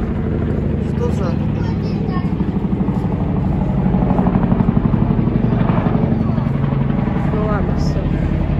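A helicopter's steady thudding drone hangs in the background, swelling slightly midway, while people talk over it nearby.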